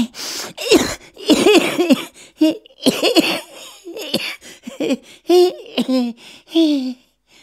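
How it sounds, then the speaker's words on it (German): A close-up fit of harsh, breathy bursts, repeated coughs and gasping outbursts in uneven clusters, sounding almost like laughter between them. "dass sie gerade einen Hustenanfall bekommen hat"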